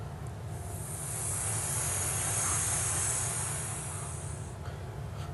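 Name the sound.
vocal beatbox imitation of waves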